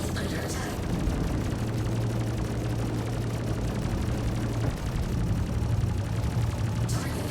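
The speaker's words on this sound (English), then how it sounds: "The bunker turret is shooting me, so be very careful." A combat game fight with rapid turret gunfire against bunker and ship targets: dense, continuous rattling bursts of shots and explosions fill the scene at steady loudness throughout.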